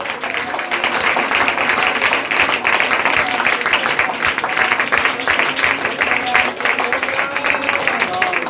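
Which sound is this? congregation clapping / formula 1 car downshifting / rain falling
congregation clapping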